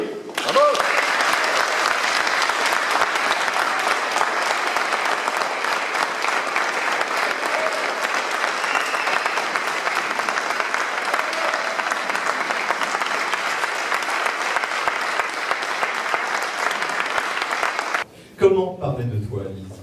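Wedding guests at a church marriage ceremony break into sustained, dense applause lasting nearly the whole stretch, fairly loud and steady, before it cuts off near the end into a brief moment of speech.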